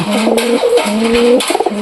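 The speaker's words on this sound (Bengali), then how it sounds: "এই যে পায়রা, আমি তোমার পায়রাটাকে দেখাই" Pigeons coo in a steady, close series of soft, throaty calls, several rising and falling phrases following one another with brief gaps, loud and clear against a light background hiss.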